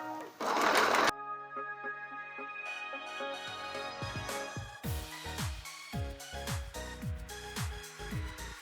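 A sewing machine runs a straight stitch line in short bursts after a brief noisy start, its needle thumping in a quick regular rhythm close by.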